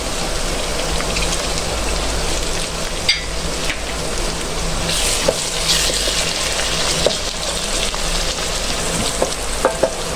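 Tomatoes added to a masala of garlic frying in oil for rajma, a loud continuous sizzle with scattered scraping stirs and small pops, close up and without speech.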